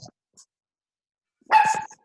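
A puppy lets out a short burst of yappy barking after near silence, close and fairly loud, with a couple of faint brief sounds before it.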